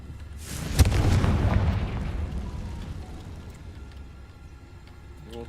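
Confringo blasting spell from Hogwarts Legacy: one sudden loud boom that swells into a broad rumbling explosion, then slowly decays into a low lingering roar.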